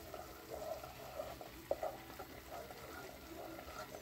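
Garlic and onion frying in a pan, a steady soft sizzle with a few brief spatters and stirring clicks, fairly quiet and without talk.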